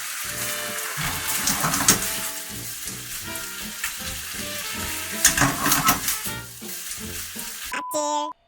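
Pork stir-fried with onion and green onion sizzles loudly over high heat in a pan, a steady crackling fry broken by scraping stirs, with a brief clatter at the end.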